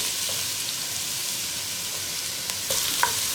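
Sliced onion and curry leaves frying in a pan for a cauliflower masala, a steady loud hiss of oil with a few light clicks and scrapes of stirring near the end.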